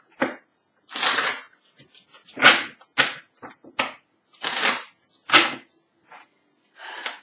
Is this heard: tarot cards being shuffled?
yes